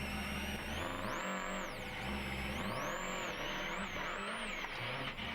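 A rally car at Wales Rally GB 2006 accelerates away loudly and close, engine revving up and down in repeated surges with some tyre noise, no talk over it.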